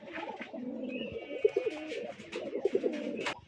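Large Rajshahi Giribaj pigeons coo in low, throaty bursts at close range, with a continuous soft murmuring throughout and a few louder pulses near the middle and end.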